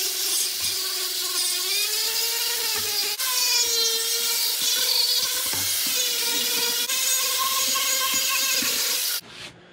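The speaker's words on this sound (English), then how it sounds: "I switched over to the quarter inch shaft with this coarse ball nose burr. I'm gonna finish cleaning up the inside here" A Foredom flex shaft fitted with a quarter-inch shaft and a coarse ball nose burr grinds the inside of a chainsaw wood carving, making a steady high whine with shifting pitch as the burr bites, close and continuous, stopping abruptly near the end.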